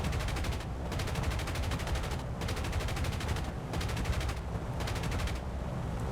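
Sustained rolling gunfire from a full ship broadside in the War Thunder video game, dense, loud bursts of rapid shots with brief gaps, continuous throughout and without talking.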